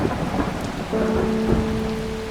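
Rain and thunder in a puzzle video game, with steady rainfall and a low rumble of thunder in the background, plus a faint sustained tone, no voices.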